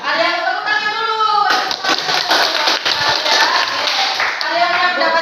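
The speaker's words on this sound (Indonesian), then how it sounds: "Ada yang tepuk tangan dulu" Classroom applause from a group of ninth-grade students, a dense burst of clapping lasting several seconds, with voices heard before and after it.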